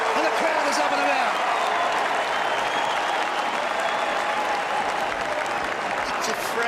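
A big stadium crowd roars steadily at an AFL football match after a GWS Giants goal, a loud continuous wash of cheering and applause with no break.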